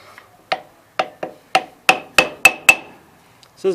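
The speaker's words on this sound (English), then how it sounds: "I gotta hammer the shaft back through that rear bearing" Eight sharp metallic hammer blows strike in a steady rhythm, driving a shaft through a rear bearing on a 1988 Gravely 16G tractor's front PTO, ringing briefly after each hit, close and alone.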